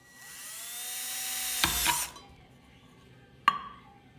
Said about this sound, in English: I'm gonna drill all those out.